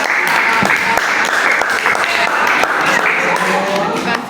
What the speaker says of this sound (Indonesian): kita kasih aplaus dulu dari Graciela